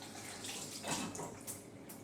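Water runs steadily from a tap at a laboratory sink while hands are rinsed, a continuous close hiss with small splashing swells and no talk.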